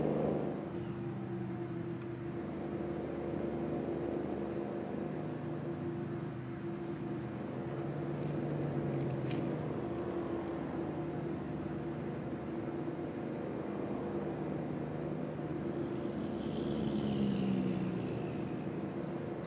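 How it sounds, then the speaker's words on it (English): A steady low engine drone of a Cummins N14 truck engine in American Truck Simulator rumbles throughout with a faint whine above it, constant and unbroken with no voices. "It's got that Cummins N14 in it, and that's a loud, pretty loud engine."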